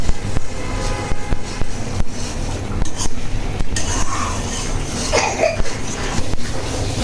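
Egg curry with pumpkin wadi being stirred in a pan after the lid is lifted, loud irregular scraping and clattering of a utensil against the metal, close and continuous.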